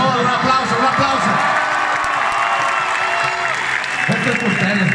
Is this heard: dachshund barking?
no